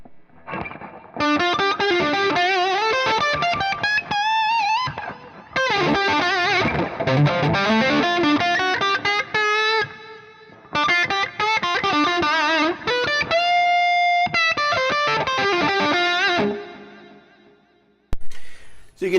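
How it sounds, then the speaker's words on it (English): Electric guitar run through a blend of delay and reverb, with phrases of ringing, bright notes trailing into echoing repeats and washy tails, separated by short silences; no talking. "So you can hear a blend of delay and reverb there."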